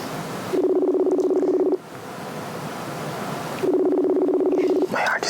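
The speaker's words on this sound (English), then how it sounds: "Oh, it's ringing." Two long bursts of telephone ringback tone, each lasting about a second, separated by a pause, heard during an outgoing phone call while the caller waits for someone to pick up.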